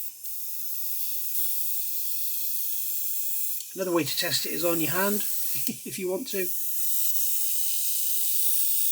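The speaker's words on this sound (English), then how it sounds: "We'll do a little test spray on this old receipt." A steady airy hiss runs throughout as an airbrush releases a fine test spray onto an old paper receipt, continuing under a man's speech in the middle.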